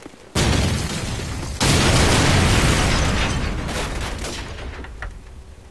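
A grenade detonates in Call of Duty 4 during a Search and Destroy round, a sudden loud blast that hits at once and then a second, bigger boom, with rumbling debris trailing off over several seconds.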